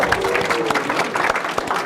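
An audience at a Manitowoc Public Library talk claps for the library foundation and friends groups, giving steady, overlapping applause that holds evenly throughout, with a voice faintly present beneath it.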